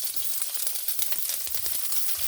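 Thin slivers of meat sizzle in a very hot pan, a dense, steady crackling hiss that carries close and fairly loud for a couple of seconds with no voices.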